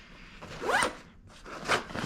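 Zippers on a packed military-style rucksack are pulled in two quick, close rasping strokes, with a short pause between them.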